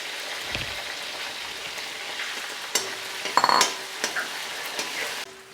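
Garlic and ginger fry to brown in oil for mango pickle, a steady close sizzle with occasional stirring clinks and scrapes and no talk.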